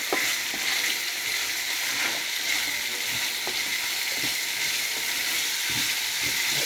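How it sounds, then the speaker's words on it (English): Saltfish fries in a pan for Jamaican ackee and saltfish, a continuous close sizzle and hiss with scattered pops and crackles throughout, steady and fairly loud. "I fry my saltfish up."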